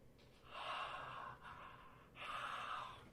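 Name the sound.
breathing demonstration played from a video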